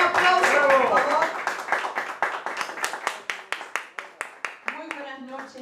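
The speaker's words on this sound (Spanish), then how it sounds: "Un aplauso, por favor." A live-show audience applauds for an international singer, clapping overlapping with talk at first, then thinning into a few sparse, rhythmic hand claps as a voice speaks again near the end.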